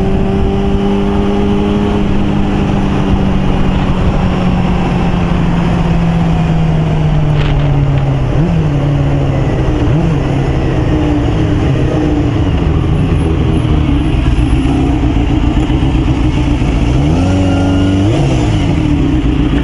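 A motorcycle engine drones loudly and steadily while riding, with its pitch sagging and rising through gear changes and wind roar throughout.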